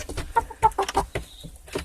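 Close, clear clucking from backyard chickens comes in quick bursts, with one higher call near the end and no voices.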